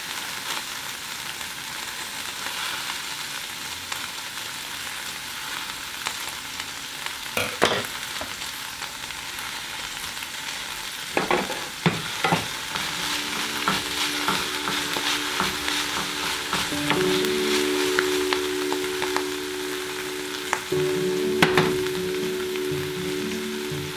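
Pea sprouts sizzle and fry in a pan as a utensil stirs and scrapes through them, giving steady frying hiss with intermittent clacks and scraping strokes, close and fairly loud, with a faint tone later.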